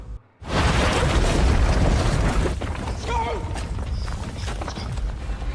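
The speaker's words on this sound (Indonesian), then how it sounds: "Hingga tiba-tiba Scott menginjak ranjau kawat yang menyebabkan ledakan." A sudden loud landmine blast bursts in after a brief silence and rumbles on as a heavy, roaring wash of noise that slowly tapers.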